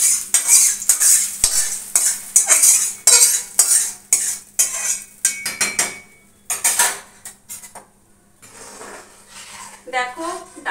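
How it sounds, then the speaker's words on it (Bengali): Hot spiced oil tempering poured into cooked dal in a home kitchen, a burst of crackling sizzle with metal utensil clinks and stirring scrapes, some clattering pans, quieter sputtering toward the end. "দিয়ে দিচ্ছি ফোড়ন ডালে"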